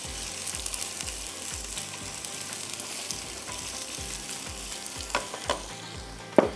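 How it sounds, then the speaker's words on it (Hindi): Onions browning in a mix of ghee and oil give a steady close sizzle, broken by scraping stirs and a few sharp utensil knocks near the end. "इसमें हम डालेंगे प्याज, 2-3 प्याज लेके उसको आपने अच्छी तरह ब्राउन करना है पहले"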